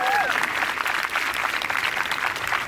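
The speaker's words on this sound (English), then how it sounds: "Can you give a round of applause to everyone who's going to be speaking today?" An audience at a community town hall applauds the day's speakers, steady close clapping filling the whole short stretch without letup.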